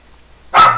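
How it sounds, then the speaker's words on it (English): A dog barks once, close and fairly loud, breaking out abruptly after near silence. "there's my dog barking at hearing the neighbor dog barking"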